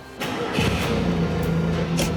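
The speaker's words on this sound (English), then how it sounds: "Got the Fiat engine back together. Time to go for a ride." A Fiat car engine, just rebuilt, starts up and settles into a steady, fairly loud mid-pitched running idle with a brief rev near the end, heard close by with no talking.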